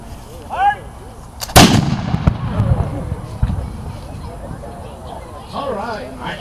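A historic firearm fires at a living history weapons demonstration in Nashville, Tennessee: one loud, sharp blast whose boom rolls away outdoors, with voices and crowd chatter before and after.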